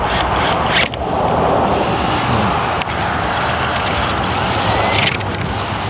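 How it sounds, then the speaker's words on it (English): A drill boring a hole through a plexiglass skylight panel for a bus conversion gives a steady, loud grinding whir for about six seconds, broken by a couple of brief catches and scrapes. "the first hole that we tried to drill, it cracked"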